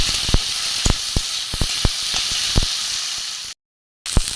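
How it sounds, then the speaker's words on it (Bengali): Potatoes sizzle in a hot pan of oil for a Bengali river-fish curry, a steady close hiss dotted with sharp crackling pops, cut off by a brief silence before the sizzle resumes. "এটা একটু ভালো করে ভাজা হয় আলুটা"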